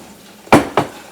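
A whisk clinks against a pan twice in quick succession while milk is stirred into a dark roux for gravy, sharp metallic knocks standing out close and loud over a quiet kitchen background.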